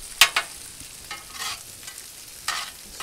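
Whole smashed garlic cloves frying in olive oil on a Blackstone griddle, giving a faint, soft sizzle broken by a few sharp crackling pops and spatula scrapes.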